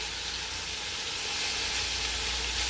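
Pork pieces with garlic and ginger frying in hot oil for Jamaican brown stew, a dense continuous sizzle and hiss that swells slightly louder toward the end, close up with no talking.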